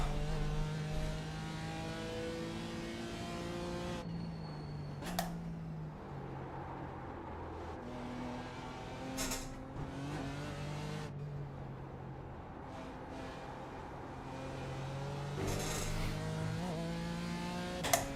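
BMW M4 GT4 race car engine from the 2018 F82 in a racing video game, rising and falling through repeated revs and gear shifts as the car laps a hot track, steady and close throughout.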